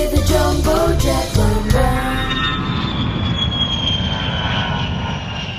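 A cartoon jumbo jet engine roars loudly and steadily, then fades into a rising whine as the plane seems to pull away, heard alone without speech.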